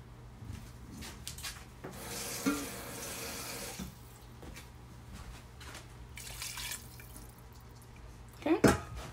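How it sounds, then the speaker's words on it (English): Water running from a tap into a cooking pot of brown stew turkey neck with chickpeas, a soft steady pour lasting a few seconds, followed by quieter kitchen handling and a brief clatter at the end. "I'm just gonna add a little bit more water."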